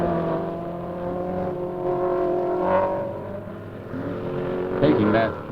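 A sports car climbs the Knox Mountain hill climb in Kelowna in 1972, its engine revving and shifting through a hairpin at mid distance, rising and falling under a commentator's voice.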